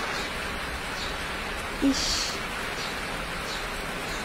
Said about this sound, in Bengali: কি সুন্দর বৃষ্টি হচ্ছে দেখো